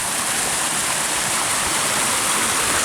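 A forest creek near Hinohara flowing steadily, a close, loud, unbroken rush of water with no voices.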